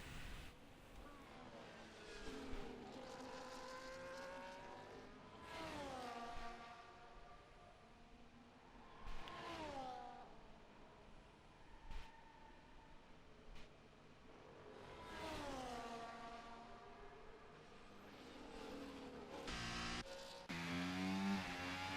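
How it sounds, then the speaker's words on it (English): F1 race car engines roar in a racing video game at Imola, cars repeatedly rising in pitch and sweeping past with gear changes, loud and continuous with no voices. "he comes to the checkered flag to set his first lap, and he jumps up to P3, 2/10 behind Zig"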